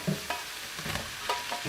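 Onion tossed into a pan of chicken and vegetables with runner beans frying, a quiet sizzle with a few stirring scrapes and clinks, close and soft, no talk.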